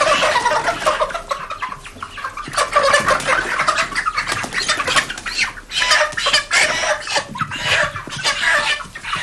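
Chickens being fattened for market sale cluck and squawk steadily on a farm, several birds close by with frequent overlapping calls and occasional wing flaps, with no talk.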